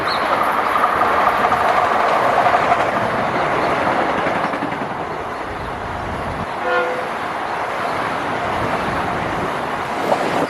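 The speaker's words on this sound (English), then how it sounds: "you get to see all the trains flying past." Trains rushing through a New Jersey station, a loud continuous roar of rolling cars and rails with a brief horn-like toot partway through, close by and without talk.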